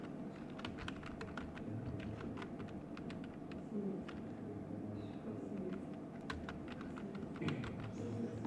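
Rapid keystrokes on a computer keyboard while typing a chart label in a spreadsheet, a steady run of light clicks with occasional louder taps over a low room hum, no talking.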